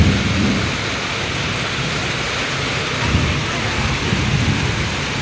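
Heavy rain pours steadily across rice-farming country, a dense continuous hiss with low thunder rumbling underneath, loud and close throughout with no voices.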